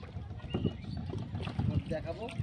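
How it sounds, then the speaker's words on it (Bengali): Oars work a boat on the Jalangi river, with soft sloshing strokes and water lapping close by while someone talks over them. "এই যে দেব ভাই নৌকা বাইছে"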